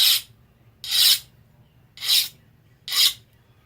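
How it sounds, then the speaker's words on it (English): A hand file is drawn across a hardened, quenched knife blade made from chainsaw bar steel, skating off the surface in four separate, evenly spaced, loud, close rasping strokes with quiet gaps between them. "The file escapes right off of it."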